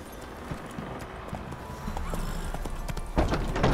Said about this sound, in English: Ven, caballo. Vamos a ir al caballo